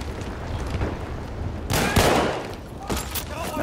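Gunfire in Battlefield 1, a burst of shots around the middle with later scattered reports, moderately loud over busy game background noise.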